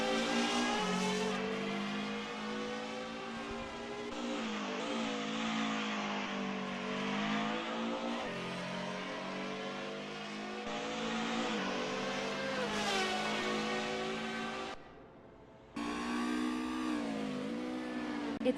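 Racing cars from the SimSpeed DTM Classics game rev hard and hold a loud, continuous, rising and falling engine drone with shifting pitch, broken by a brief gap near the end before the roar returns.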